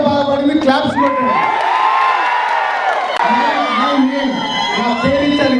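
An audience at a film's platinum disc celebration roars with loud cheering, shouts and whoops, sustained and close throughout, with voices calling out over the crowd noise.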